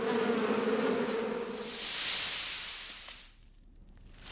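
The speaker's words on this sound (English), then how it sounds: "The bees keep their hives secure and keep diseases afar with one of their best weapons, honey." Bees buzz densely around their hive, a continuous close swarm drone that swells and fades as insects pass by, then thins out toward the end.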